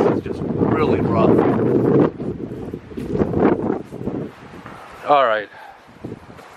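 Gusts buffet the microphone outside an abandoned house with a porch, a rough, breathy roar that comes and goes in bursts while a person talks over it.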